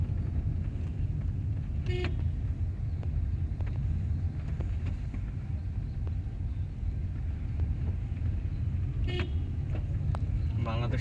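Two short, loud car horn toots sound from a car in Bangladeshi city traffic, one early and one near the end, over a continuous rumble of road noise.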